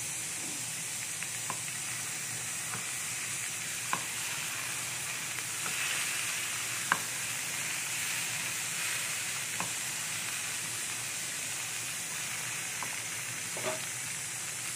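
Beaten yogurt goes into a hot pan of chole, giving a steady, close frying sizzle with a few faint stirring clicks and scrapes scattered through it.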